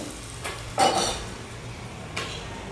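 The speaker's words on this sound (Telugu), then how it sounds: "ఉల్లిగడ్డ అయితే వేస్తున్నా చూడండి" Sliced onions go into hot oil in a pan for a chicken tamarind curry, giving a soft steady sizzle under a few sharp clinks of a spoon against the pan.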